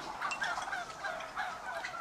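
Turkeys gobble repeatedly in a close, continuous chorus of warbling calls, with several birds overlapping throughout.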